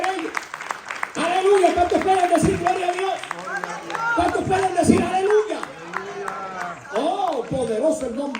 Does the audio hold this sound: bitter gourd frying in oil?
no